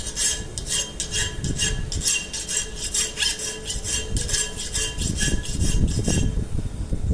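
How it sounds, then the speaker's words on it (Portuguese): A worn, half-life hand file rasps across machined bearing steel held in a vise, a steady run of rough strokes in even rhythm, close and fairly loud, with no talk. "é pegar uma lima bem meia-vida mesmo e tentar fazer um desgastezinho para ver o que vira"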